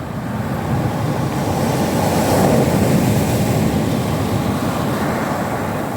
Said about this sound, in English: I'm just keeping an eye on these waves